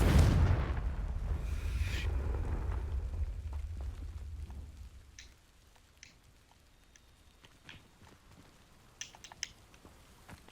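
In Hogwarts Legacy, a Confringo fire spell strikes dry vines, starting with a loud low whoosh and burst that rumbles for a couple of seconds, then fades into quieter crackles and scattered sharp ticks.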